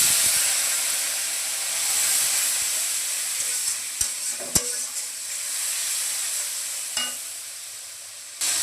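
Spice paste of ginger, cumin, turmeric, chili and coriander powders is stirred and fried in a hot pan, producing a loud, continuous sizzle and hiss with a few sharp scrapes and knocks from the spoon.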